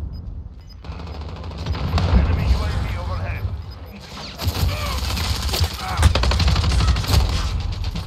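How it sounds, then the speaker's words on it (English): Call of Duty Modern Warfare gunfire punching through a wall in a hardcore Headquarters match: loud, rapid bursts of automatic fire and rattling impacts, coming in waves with a voice over them. "they was just shooting through that wall at us"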